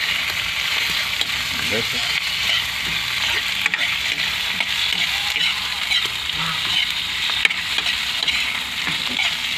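Shrimp paste fries in a pan with a dense, continuous sizzle and light stirring scrapes; a voice speaks briefly over the frying.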